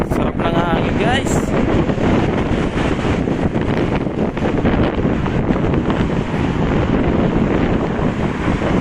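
Strong wind blows beside the Danube River, buffeting the microphone with a constant heavy roar. Someone speaks over it.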